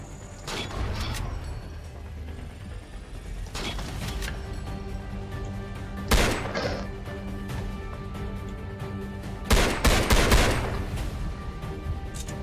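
Bursts of gunfire in a futuristic shooter video game, with rapid automatic fire and mechanical clatter throughout and several louder volleys standing out at intervals.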